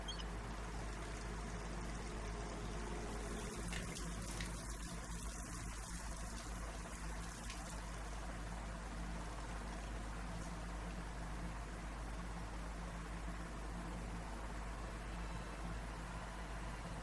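Steady water flowing in the Hitman 3 video game, a continuous broadband rush that holds even and unbroken throughout, with no voices.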